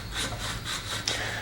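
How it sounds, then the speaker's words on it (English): Scotch-Brite pad rubbing around the pull-start clutch shaft of a Briggs & Stratton engine, a close, steady abrasive scrubbing in repeated strokes with no talk. "You'll come in here with one of these little Scotch-Brite pads and just run around on that shaft right there"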